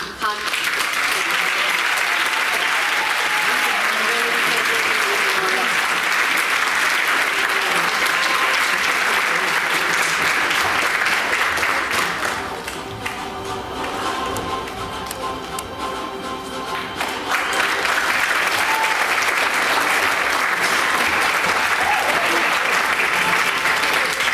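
Steady, full applause from a seated audience fills a senior achievement ceremony honoring a graduating award recipient, dipping briefly midway before swelling again, continuous throughout.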